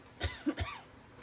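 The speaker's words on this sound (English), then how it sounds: "having a little coughing fit" A few sharp coughs in quick succession, close and fairly quiet, with a brief throat sound between them.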